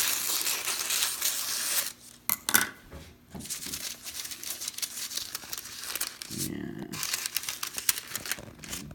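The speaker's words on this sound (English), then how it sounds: "I'm just going to cut my parchment." Parchment paper is cut and crinkled close by while baking French bread, with sharp crackling rustles, scissor snips and a few brief knocks.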